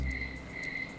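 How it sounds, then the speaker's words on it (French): Crickets chirp at night in a quiet outdoor setting, a steady high, thin trill with faint pulsing, soft and continuous on its own. "On n'entend plus que les grillons."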